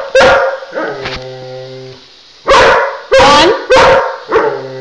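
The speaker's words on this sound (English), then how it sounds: "I'ma count your barks" A collie barks in a short series of loud, close yips and barks, a pair first, then a pause, then four more in quick succession, with no other sound between them.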